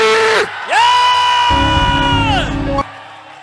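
A church congregation erupts in loud whooping, yelling and cheering during a worship service, a sustained crowd roar that swells, holds, then cuts off, leaving a quieter hum of voices.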